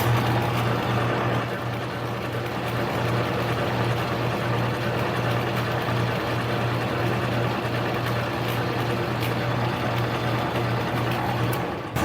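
A metal lathe runs in gear while turning a small brass bushing, giving a steady low motor hum with a constant tonal drone and faint mechanical whir, even and continuous with small ticks on top.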